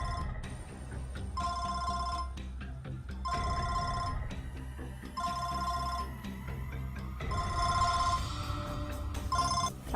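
A home telephone rings in repeated electronic bursts, about five trilling rings evenly spaced over ten seconds, clear and fairly close above a low background bed with no speech.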